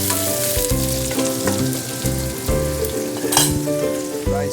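Onions with cardamom fry for a lamb biryani, with a loud, continuous sizzle and stirring close by and tonal music playing underneath.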